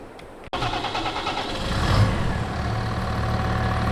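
A medium tractor in the Farming Simulator 22 game starts up with a sharp click, then its engine settles into a steady drone that swells slightly as it drives off, alone with no voices.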